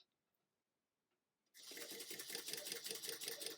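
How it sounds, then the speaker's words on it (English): A sewing machine stitching fabric for an A-line dress starts abruptly after a moment of near silence, then runs at a fast, even, rhythmic whir that stays close and steady. "I'm going to take 2 stitches diagonally across"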